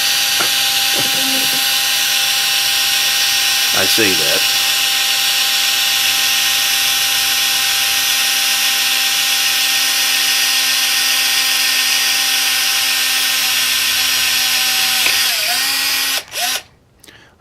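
A power drill bores steadily during a car sound system install, its high whine holding for more than fifteen seconds up close before cutting out, with a brief spoken remark at the start.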